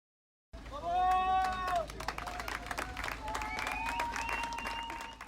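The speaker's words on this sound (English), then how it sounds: "Applaudissements et joie" Onlookers applaud and cheer at the first outing of Raymond Jonin's boat after its transfer by truck, with sustained clapping joined by raised voices and whistle-like shouts rising over the crowd.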